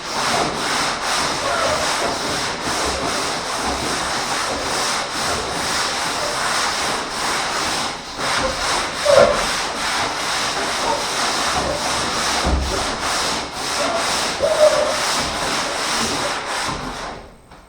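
A panel being hand-sanded during bodywork, a continuous close scratchy rubbing with rhythmic back-and-forth strokes, lasting the whole stretch with a few brief pauses.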